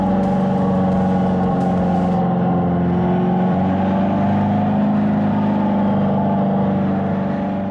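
A 2025 Dodge Charger Daytona EV Scat Pack drives with a loud, steady electric-motor hum and synthetic drone, holding constant and close throughout, with a brief rise early on.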